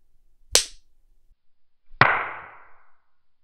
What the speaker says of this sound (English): The crack that people hear is basically a sonic boom of the bullet passing the sound barrier